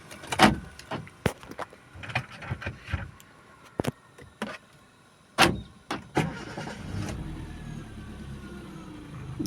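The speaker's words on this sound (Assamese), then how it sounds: "এতিয়া মই গাড়ীখন আপোনালোকক ষ্টাৰ্ট কৰি দেখাম।" A used Maruti Alto 800 hatchback with about 95,700 km on it: clicks and clunks of doors and controls, then the engine cranks and settles into a quiet, steady idle heard up close.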